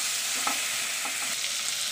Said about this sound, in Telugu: ఈ విధంగా టమాటాలు ఉల్లిపాయలు కూడా మనకి వేగిపోయే